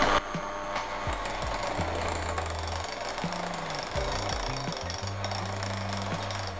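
An electric mixer beating flour into strawberry cheesecake batter, heard as a loud, continuous mechanical whir with rattling whisks and shifting low hum, no talking.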